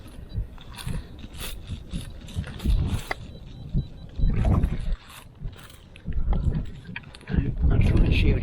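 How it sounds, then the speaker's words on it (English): Strong 40-mile-an-hour wind blows outdoors on a blustery day, roaring in loud, uneven gusts with deep rumbling buffets that surge and ease throughout. "these 40-mile-an-hour winds that are coming through. Some serious wind coming out here."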